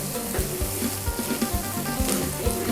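Shallots and garlic stir-fried in a pan for shrimp pad thai: a constant loud sizzle with regular soft thumps and scrapes of the spatula about twice a second, close and without speech.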